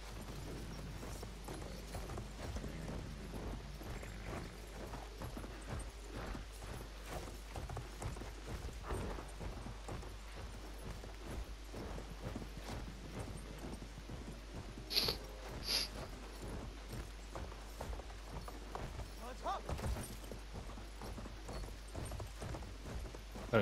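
Horse hooves clip-clop steadily in a video game war match, a continuous close rhythm of steps with occasional snorts and a couple of sharper knocks around the middle.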